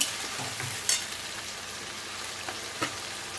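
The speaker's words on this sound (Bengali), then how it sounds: "এখন দিয়ে দেবো এখানে আদা, কাঁচা লঙ্কা, টমেটো পেস্ট দিয়ে ভালো করে কষিয়ে নেব" Potatoes frying in a pan with ginger, green chili and tomato paste being stirred in, giving a soft continuous sizzle with a few faint scrapes and clicks, heard alone at low level.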